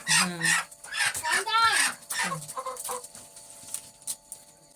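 Chickens and roosters kept together on a farm, clucking in bursts with a rising, drawn-out crow partway through, fairly close and loud before fading to softer scattered clucks.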